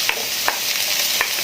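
Chopped onion hitting hot olive oil in a pan beside frying fish gives a steady, close sizzle, broken by a few soft scraping stirs.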